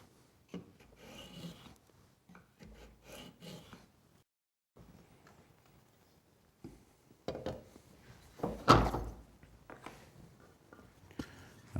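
Skew block plane shaving along a piece of wood stock in a workshop, with several separate rasping strokes spaced by pauses, close and fairly quiet, the loudest stroke near the end.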